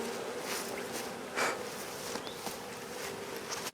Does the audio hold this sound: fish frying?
no